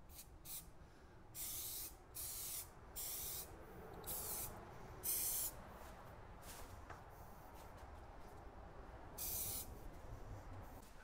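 Glossy Rust-Oleum spray paint going onto car emblems, a series of short hissing bursts from the aerosol can, about eight of them with brief pauses between, close and fairly soft over faint background noise.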